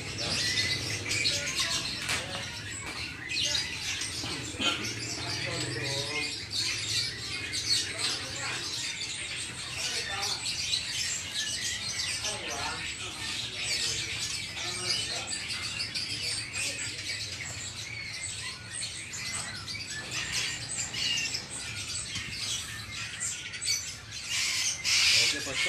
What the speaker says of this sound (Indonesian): Satu ekor kacer wulung.